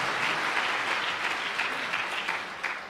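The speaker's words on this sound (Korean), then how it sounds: "이렇게 박수도 쳐주시고 얼마나 감사해요" A church congregation at a morning prayer service claps steadily, a dense, even patter of applause that lasts the whole few seconds and tapers slightly at the end.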